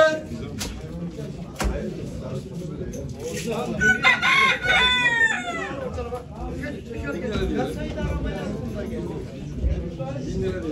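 Chickens and roosters at a poultry auction in Ankara, with a loud crow rising mid-clip amid steady clucking and busy crowd chatter; people talk throughout.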